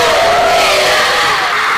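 Fans at a concert cheering and shouting the singer's name as he enters, a loud, dense crowd roar with high-pitched voices that holds steady throughout.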